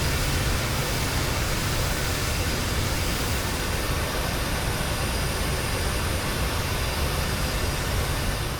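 Twin engines of a PMDG 737-800 in Microsoft Flight Simulator run at a steady idle, a constant dense roar and hiss that holds evenly throughout without voices.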